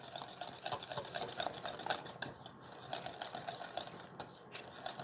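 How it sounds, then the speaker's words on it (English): Custard being whisked in a bowl, a faint, quick, rhythmic ticking and clatter that pauses briefly twice before resuming; no voices. "I'm going to stir and whisk my custard again"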